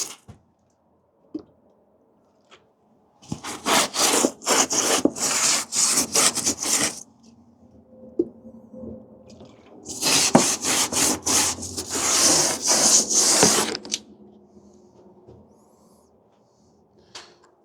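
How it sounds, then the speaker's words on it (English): A cloth wipes down a sanded RV wall in two long bursts of close, rhythmic rubbing strokes with a quiet pause between them and no speech. "I'm going to do a quick wipe down."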